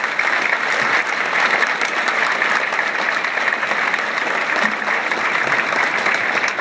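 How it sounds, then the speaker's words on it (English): Students in a school veterans' program applaud World War II veterans, a steady, dense clapping from a large crowd that holds evenly throughout without a break. "Students, give them an applause"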